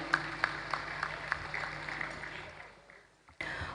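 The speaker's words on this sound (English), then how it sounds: "A round of applause for him once again." Applause at a youth political conference, scattered claps over a low hum that fade and thin out toward the end, followed by a sudden cut in room noise.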